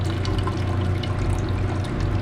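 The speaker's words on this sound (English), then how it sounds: "what we'll do is pour off this electrolyte, this excess electrolyte, into here." Excess electrolyte from silver crystal refining is poured off from a beaker into another container, a close, steady liquid trickle and splash with small drips running throughout.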